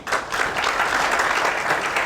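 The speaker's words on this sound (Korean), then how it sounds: "나오실 때 큰 박수 부탁드리겠습니다" Audience applause at a church conference on love, dense and steady clapping from a sizeable crowd filling the whole short stretch at an even level.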